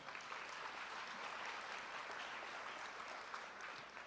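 A crowd applauds at a high school signing ceremony, a dense, steady wash of clapping that holds evenly throughout without voices.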